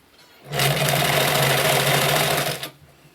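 A sewing machine finishes stitching a scrunchie in one close, loud burst of steady whirring lasting about two seconds, with no talk.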